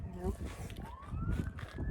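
Emergency vehicle sirens wail outside, a rising and falling tone heard under a person talking indoors, moderately distant but clearly audible.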